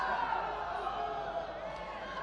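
A crowd at a judo Grand Slam tournament in Tokyo reacting with a steady, diffuse murmur of many voices filling a large arena, moderately loud and continuous throughout.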